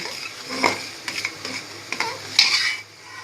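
Spoon stirring vermicelli into milk with khoya and rice in a pot, a few soft scraping strokes and light clinks against the pan over a faint simmer, no talking.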